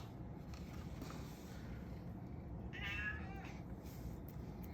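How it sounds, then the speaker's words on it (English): A cat gives one short meow partway through, faint against a steady low background hum, with no talking. "What's up, kitty?"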